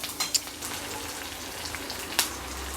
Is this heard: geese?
no